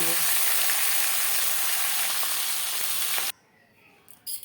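Silver carp fish heads fry in hot oil, giving a loud, steady sizzle for about three seconds that then cuts off abruptly into near silence, with a couple of faint clinks at the end.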